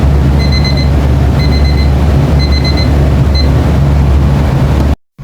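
A loud electronic kitchen timer alarm sounds in repeated bursts of rapid beeps, about once a second, over a steady hum, then cuts off abruptly.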